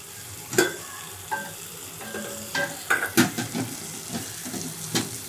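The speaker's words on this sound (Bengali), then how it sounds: "এখন মাছটা আমি একটু কষিয়ে নেব" Stinging catfish being stir-fried with garlic, onion and tomato in a pan, with sharp clinks and scrapes of a spatula against the metal over a steady low sizzle, close and moderately loud.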